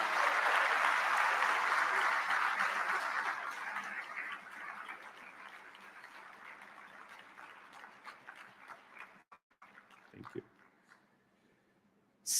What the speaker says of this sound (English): May I ask our graduates to let this hall resonate in loud applause